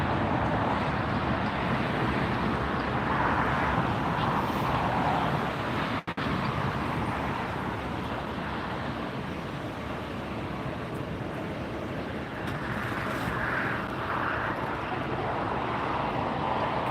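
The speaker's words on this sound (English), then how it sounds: "So we have another A380 coming in on the other side, it looks like." British Airways Airbus A380 arriving from London Heathrow and landing at LAX, a broad, steady jet roar that swells and eases slightly over a long stretch, heard from a distance outdoors with no speech.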